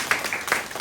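Brief, moderate clapping from a congregation during a Korean church Sunday service, several rapid bursts of hand claps close by within under a second.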